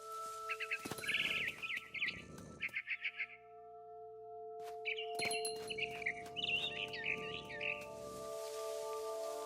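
Barn swallow chirping outside a window in the video game What Remains of Edith Finch: quick, bright bursts of twittering in two clusters, separated by a pause, over a quiet hum.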